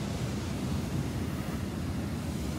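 Ocean surf rolling onto the sand at Natural Bridge State Beach in Santa Cruz, a steady loud wash of breaking waves with wind rumble buffeting the microphone and no voices.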